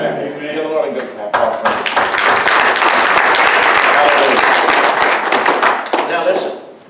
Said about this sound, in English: Give the Lord a good clap.